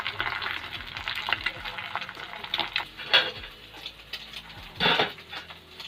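Egg frying on a dosa tawa in a home kitchen, a steady soft sizzle running throughout with a few brighter crackles and utensil scrapes, close and moderately loud.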